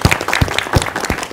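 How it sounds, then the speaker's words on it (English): Short burst of audience applause, a few distinct claps standing out over a lively crowd of hands, fairly close and loud. "I think you need a round of applause."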